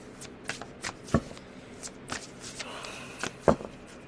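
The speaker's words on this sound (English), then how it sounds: "let's pull from the Astro cards here." A deck of astrology cards being shuffled for a reading, heard as a string of soft, close riffling taps and flicks, with a couple of sharper snaps standing out, and no voice over them.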